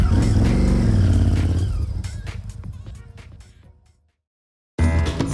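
A loud street motorcycle engine revving at a concours d'elegance show, then fading away into silence before another burst of engine noise kicks in abruptly.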